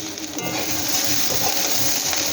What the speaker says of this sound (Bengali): এই যে সমস্ত সবজি আমি এই যে ভেজে নিচ্ছি